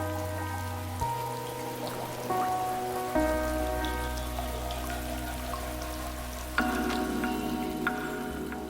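Steady rain falls in a humid South American rainforest, a dense, even hiss of drops pattering on leaves that continues throughout, with soft layered tones running underneath it.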